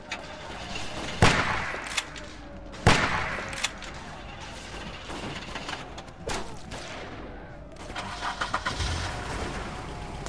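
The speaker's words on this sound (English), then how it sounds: "the lawnmower is like right up against the door" A lawnmower engine in The Walking Dead video game, pressed up against a door, runs as a rough mid-pitched drone with sharp bangs and clatters breaking in, fairly close and steady throughout.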